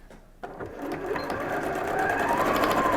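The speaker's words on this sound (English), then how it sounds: "So we're going to sew 2 inches" A sewing machine starts up and stitches fabric for a homemade isolation gown, running in a steady, close whir that grows slightly louder and keeps going with no pauses.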